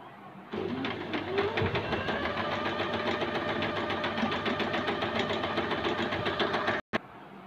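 An Usha Dream Stitch sewing machine stitches steadily after a thread tension adjustment, a close, even whirring rattle that starts abruptly, runs for several seconds, then cuts off with a short click.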